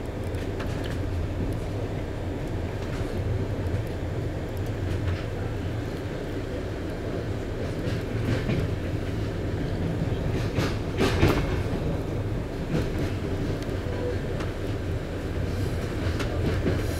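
EIC 8100 Bolesław Prus intercity train runs on the rails between Warszawa Centralna and Warszawa Wschodnia, a steady heavy rumble from inside the carriage with faint rhythmic wheel clicks and occasional brief squeals, continuous throughout.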